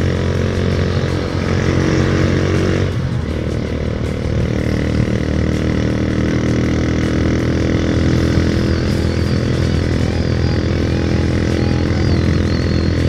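A Brun GL100 motorcycle rides along a road, its engine droning loudly and continuously with a brief dip in revs early on, wind rush mixed in.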